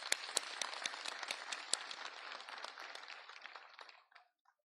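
Applause from a seated audience for retired general officers at a military farewell ceremony, with dense clapping for about four seconds before it thins out and stops.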